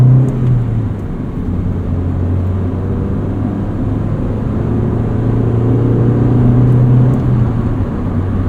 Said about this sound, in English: Road noise isn't terrible.